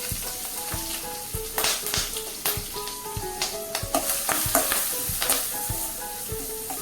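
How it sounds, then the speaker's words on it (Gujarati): Green chillies and turmeric sizzle loudly in hot oil for a Gujarati green chilli sabji, a constant crackling fry broken by sharp clacks as a spoon stirs the pan. "તેલમાં બધું તતડી જાય એટલે આપણે હળદર એડ કરી દઈએ અને તરત જ આપણે આ મરચાં એડ કરી દઈએ"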